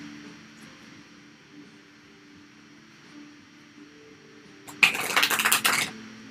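Tarot cards being shuffled by hand, a short burst of loud riffling flutters near the end after several seconds of quiet room hum.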